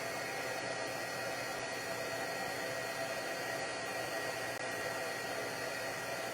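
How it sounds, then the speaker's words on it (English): A heat gun blows steadily at close range, making a constant broadband whoosh of forced hot air with no breaks and no voices. "So you take your heat gun and just watch."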